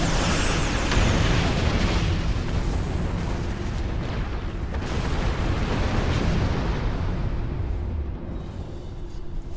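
Starship weapons fire and explosions in the Star Trek Online video game, a continuous heavy roar of booming blasts and rumbling detonations, loud and dense, fading slightly toward the end.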